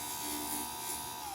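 A small grinder whirs with a steady high-pitched buzz while shaping a tiny mosaic pendant piece, close and continuous for a brief moment.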